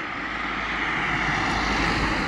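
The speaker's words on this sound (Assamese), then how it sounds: "এইফালে গাড়ী আহি আছে" Steady broadband roar of traffic on a foggy highway near a rail line on the way to Bogibeel Bridge, a continuous near pass that rises slightly in loudness, with no talk.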